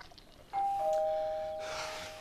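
A household doorbell rings once with a clear, sustained two-tone chime that fades slowly, heard indoors against a quiet room.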